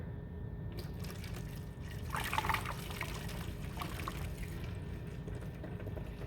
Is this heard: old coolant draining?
yes